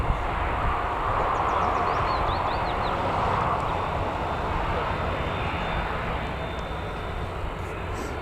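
A Jet2 airliner at Newcastle Airport gives a broad, steady engine roar, loud and sustained across the whole stretch, with faint higher whines above, heard from some distance outdoors.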